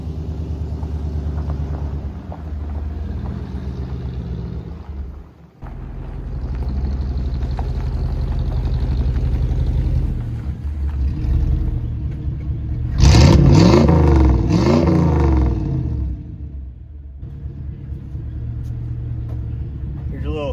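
A Subaru Impreza with an EJ22 engine idles with a low rumble, then revs loudly with rising and falling engine tones before settling back, close by, with someone talking over it.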